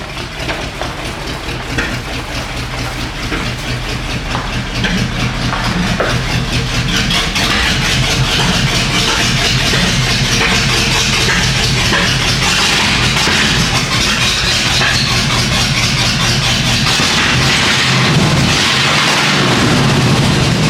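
A 1990 Ford F250 plow truck engine idles with a steady, rough low rumble, its coolant temperature sensor unhooked, loud and close, running continuously without pause.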